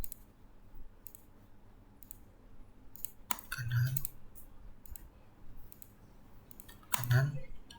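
Computer mouse clicks while modelling a building in SAP 2000, a few sharp separate clicks spaced seconds apart, with someone speaking quietly in between.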